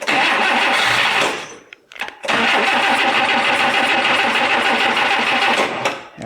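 An abandoned 1962 AMC Rambler runs loud and close, its transmission giving off a dense grinding, whirring racket over the engine, dropping briefly in a short lull before surging back steadily.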